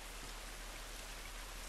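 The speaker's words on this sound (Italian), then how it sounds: "Questa pioggia non va bene." Steady, even rainfall in the video game The Last Of Us, a continuous hiss of rain with no voices.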